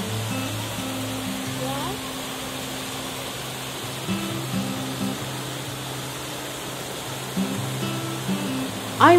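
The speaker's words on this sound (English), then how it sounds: "From the hilltop, we went down to the river" The Rur river flows past Kreuzau, Germany, a steady, even rushing wash of moving water that continues throughout, with a gentle melody playing underneath.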